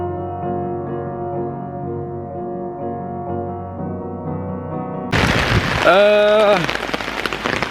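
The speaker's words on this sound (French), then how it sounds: "Parapluie est en train de fuir, il pleut dedans, c'est la tempête" Heavy rain from a storm hammers loudly on an umbrella and leaks through it, starting abruptly after a stretch of sustained tonal music, with a loud, wavering voice cutting through the downpour.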